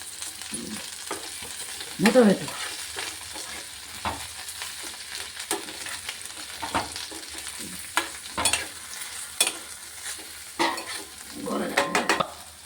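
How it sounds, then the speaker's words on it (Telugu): Ingredients for an old-style tamarind chutney, with coriander added, sizzle in a pan on the stove, a steady close frying hiss with repeated scraping stirs and clinks of a spoon, no voices. "మంచిగా దోరగా వేగాయి"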